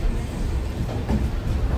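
Konkan Railway passenger train running, heard from inside a coach by a window seat: a steady low rumble and rattle of wheels and carriage carries on throughout, with no clear clacks standing out.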